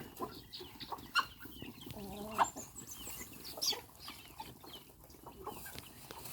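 Chickens on a rural farm cluck in scattered, faint bursts against a soft outdoor background, with a few sharper calls standing out briefly.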